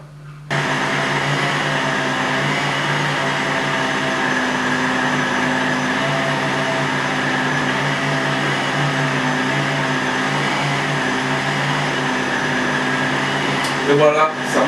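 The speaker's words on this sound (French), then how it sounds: "je vais appuyer sur le bouton pour actionner la machine" A semolina couscous-making machine switches on with a click and runs as a loud, steady whirring drone with a low mechanical hum, holding constant for over ten seconds before a brief clatter at the end.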